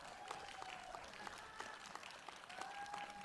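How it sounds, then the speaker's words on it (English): Sustained applause from a crowd at an outdoor anti-hate rally in Bristol, steady clapping throughout with a faint tone humming in the background. "Give Tommy and Dustin another round of applause."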